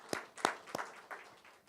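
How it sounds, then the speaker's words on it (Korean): A church congregation at a Sunday afternoon service claps briefly, with a few distinct claps at first, then thinning, scattered applause. "우리 다음 세대 격려하면서 우리 박수하겠습니다."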